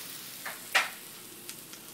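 Garlic and onions sizzling in a pan, a faint steady fry with a few sharper hisses and spatters, one louder burst near the start, close and without talk.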